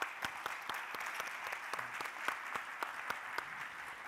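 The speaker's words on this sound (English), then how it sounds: "So a round of applause to Nancy and to Caroline." A small audience at a cooperative round-table session claps, with distinct individual hand claps in a loose, fairly even rhythm that sounds modest and somewhat distant.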